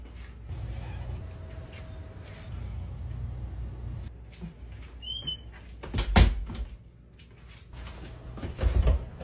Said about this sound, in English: Tramicia, shut the door for me, please